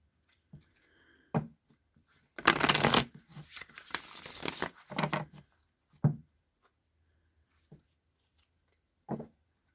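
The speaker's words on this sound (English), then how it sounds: "I'm going to go ahead and shuffle 3 times" A tarot card deck being shuffled by hand in a quiet room, with a few light taps and riffles, then a dense burst of shuffling in the middle, followed by scattered soft clicks and taps.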